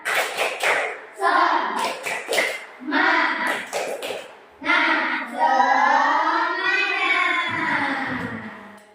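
A classroom of Indonesian pupils performs the 'tepuk semangat' spirit clap: bursts of rhythmic group hand claps punctuate loud chanted voices, close up, ending in a long drawn-out chanted line.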